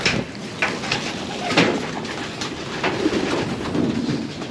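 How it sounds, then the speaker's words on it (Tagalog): Pet birds kept in a cage coo softly and repeatedly, at moderate distance, over a constant hiss of ambient noise with no talking. "Ito yung ating mga ibon par."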